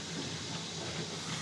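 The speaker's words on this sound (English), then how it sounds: "That's it, we go for the vacuum brake. That's the brake that puts the brakes on the whole train." A steady hiss of air from a steam locomotive's vacuum brake being applied from the footplate, fairly quiet and continuous with a faint underlying mechanical hum.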